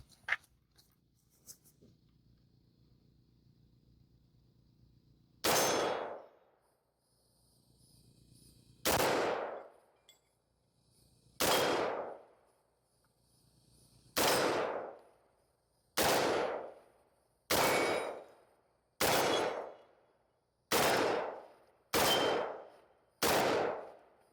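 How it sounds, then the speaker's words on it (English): About ten rifle shots ring out at a range with a 1-6x LPVO scope mounted, each a sharp loud crack with a decaying tail, spaced one to three seconds apart after a quiet start. "we'll go put some rounds downrange now"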